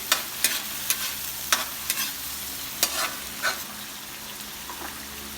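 Shrimp sautéing with garlic and onion in a pan, a steady sizzle broken by regular stirring scrapes, roughly one every half second at first and then spacing out.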